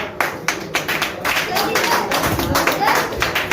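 Scattered clapping from an audience at a Teachers Day event, a few sharp claps building into steady group applause under a talking voice.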